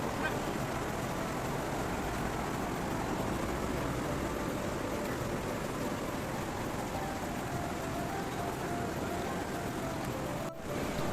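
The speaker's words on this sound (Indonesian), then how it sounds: "Waduh, hujannya makin jadi." Steady rain hisses heavily and evenly at a roadside restaurant, a dense wash of noise with faint traffic beneath it.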